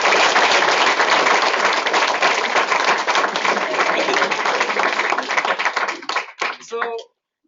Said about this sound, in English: So let's give Adrian one more big round of applause.